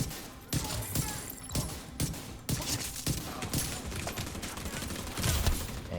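Gunfire in The Division 2 comes as repeated close bursts of shots with short gaps between them, loud and irregular against a busy in-game background.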